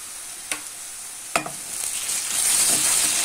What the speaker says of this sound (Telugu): అల్లం వెల్లుల్లి పేస్ట్ వేసాక కొంచెం ఫ్రై అయిన తర్వాత